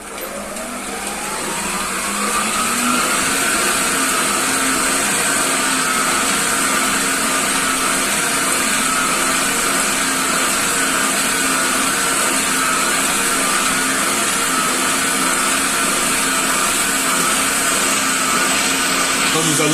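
A stand mixer kneads brioche dough while soft butter is gradually worked in, its motor spinning up over the first seconds into a loud, steady whirring hum that holds to the end.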